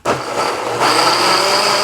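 Blender puréeing chipotle salsa in a home kitchen, a steady loud motor whir that surges higher partway through and keeps running to the end with no talk.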